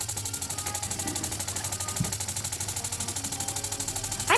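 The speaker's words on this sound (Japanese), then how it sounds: "私が作ったエンジンはどれくらいでしょうか。" A homemade LEGO pneumatic engine driven by compressed air from a plastic bottle spins steadily, giving a fast, even mechanical chatter at a constant nearby level throughout.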